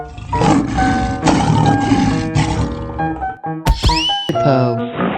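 A lion roars in a cartoonish 3D animal slide game, a loud drawn-out bellow over bright tonal game music, with a rising swept tone near the end.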